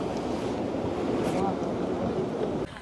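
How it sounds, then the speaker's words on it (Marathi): Sea waves at Tarkarli beach on the Konkan coast, a continuous loud wash of surf mixed with wind buffeting on the microphone, ending abruptly. "आता लाटा बघा केवढी आहे."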